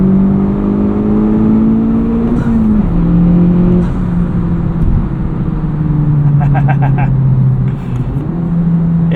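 A 2023 Honda Civic Type R FL5 with a Cobb carbon fiber intake accelerates hard from inside the cabin, with engine pitch climbing through gears and intake whoosh, loud and close, and a voice talking over it.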